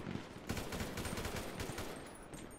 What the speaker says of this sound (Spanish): nos están disparando desde el blindado